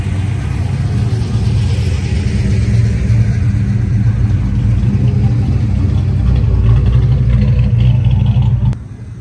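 A supercharged big-block hot rod engine runs with a steady, loud low rumble and a mid-range mechanical drone for several seconds, close by, then drops off abruptly near the end.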